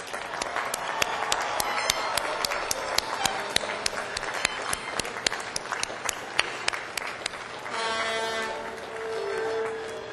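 Audience applause at a 2004 College of Environmental Design commencement ceremony, honoring graduates' families: dense, steady clapping from a large crowd that lasts about eight seconds, then a sustained brass tone rises as the clapping thins.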